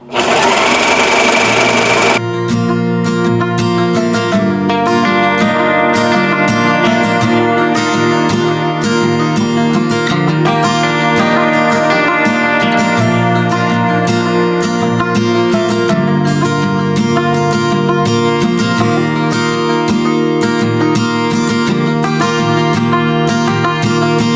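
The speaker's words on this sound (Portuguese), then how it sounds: "então eu vou fazer na overlock" Overlock sewing machine running steadily while stitching the seams of a pillowcase: a loud, continuous fast mechanical whir with rapid stitching rhythm, after a brief quieter start.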